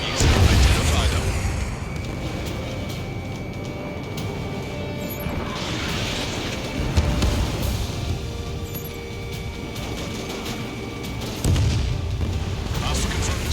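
Missiles explode in Ace Combat 7 as several deep booms roll out across the sky, mixed with jet engine drone while radio voices talk over the action.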